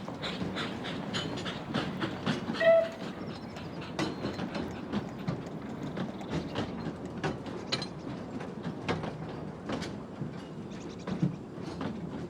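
Quiet, scattered clanks and mechanical knocks over a low rumble from a 1907 Borsig narrow-gauge locomotive being made ready on the 76 cm Sibiu to Agnita line.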